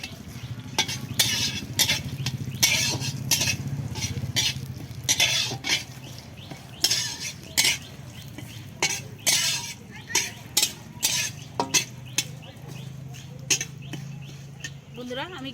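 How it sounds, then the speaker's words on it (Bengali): Bay leaf, cardamom, cinnamon and cloves frying in ghee in a home kitchen for basanti pulao, with a soft sizzle under repeated scraping and clinking stirs of a spoon against the pot, plus a voice speaking at times. "প্রথমে দিলাম ঘি, তারপর তেজপাতা দিলাম, এলাচ দারুচিনি আর লবঙ্গ"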